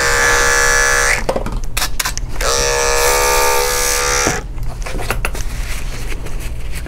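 An electric pet clipper buzzes loudly while shaving a Lhasa Apso's face, running in close steady stretches broken by brief pauses and clicks as it lifts from the coat.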